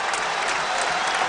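Basketball crowd in Columbus cheering and applauding for the Ohio State Buckeyes during a college game against Minnesota, a dense, steady roar of clapping and voices filling the whole moment without letup.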